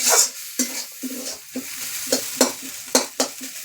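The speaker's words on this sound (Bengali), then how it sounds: "এবার একটু নেড়ে চেড়ে নামিয়ে নেব" Sour vegetable curry stirred in a pan with a spoon, giving about a dozen rhythmic scraping strokes over a light sizzle, close and fairly loud, with no one speaking.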